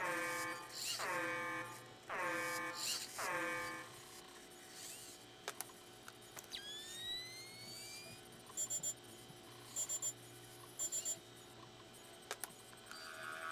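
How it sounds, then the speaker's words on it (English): Alarm in Splinter Cell Chaos Theory: repeated descending electronic wails sound loudly at the start, followed by rising sweeps and clusters of short high beeps amid quieter game ambience. "That's 2 alarms, Sam."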